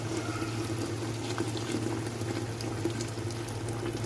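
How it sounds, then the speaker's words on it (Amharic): Water boils steadily in a cooking pot for kabsa, a continuous close bubbling hiss and rumble with no voices. "እዚህ ጋር ውሃችን ይፈላል።"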